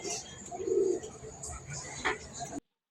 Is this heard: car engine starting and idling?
no